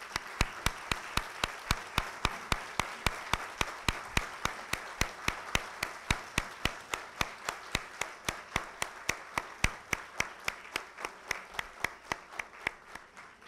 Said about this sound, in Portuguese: eu gostaria que se levantassem e recebessem um aplauso dos que trabalham, os professores, nas instituições prisionais